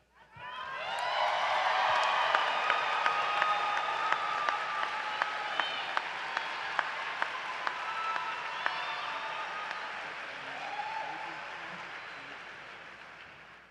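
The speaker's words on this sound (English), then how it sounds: "Let's have one more big round of applause for Mallory and that wonderful speech." A law school commencement audience breaks into loud, full applause after a speech, swelling quickly and holding steady with scattered whoops and cheers before tapering off near the end.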